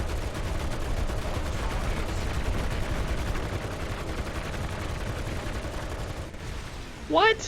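Rapid, sustained automatic fire from .50 caliber and .30 caliber turrets in the survival game ARK forms a dense, steady rattle, followed near the end by a brief spoken exclamation.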